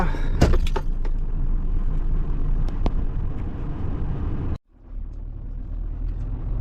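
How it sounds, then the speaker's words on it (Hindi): A heavy truck's engine runs at a loud steady rumble, cuts out abruptly, then restarts and settles back into a lower idle, heard close with no talking. "अभी गाड़ी स्टार्ट कर दिया"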